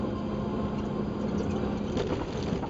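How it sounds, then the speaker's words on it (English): A flatbed truck's engine brake holds steadily while descending a mountain grade in eighth gear, a continuous low droning rumble that fills the clip without pause. "turn the crappy Jake on. Ain't worth a flip. All it does is make noise."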